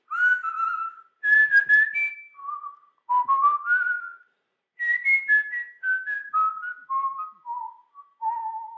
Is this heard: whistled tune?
yes